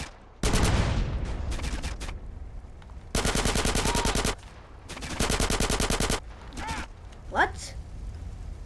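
Long sustained SMG bursts from the game Grand Theft Auto: San Andreas roar loud and close in several extended strings, separated by brief pauses, with a few sharper single pops near the end.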